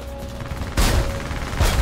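Gunfire aimed at a player's aircraft in the War Thunder combat flight game: two loud, rough bursts of shooting, one near the start of the second half and a shorter one at the end, over a steady engine drone.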